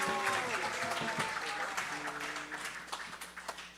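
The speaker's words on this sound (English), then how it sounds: "Please give a big round of applause to Akshita." An audience at a Sunday feast gathering claps for a young prize winner, a moderate patter of applause mixed with overlapping voices and faint tonal sounds.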